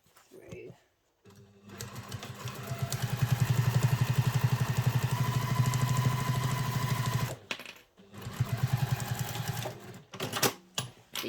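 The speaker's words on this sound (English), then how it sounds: "fold the seam, and we're just going to top stitch" A sewing machine top stitches a seam on a travel satchel, with a rapid rhythmic needle chatter that speeds up and holds for several seconds, then breaks off before a second shorter burst. Soft handling noises fill the gaps.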